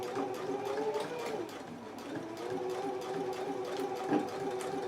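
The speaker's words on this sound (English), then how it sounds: "now we can stitch both ends at a 5/8 of an inch seam allowance" A sewing machine stitches the ends of a skirt waistband at a 5/8 inch seam allowance with a continuous, even motor hum and needle rattle, close and steady with no talking.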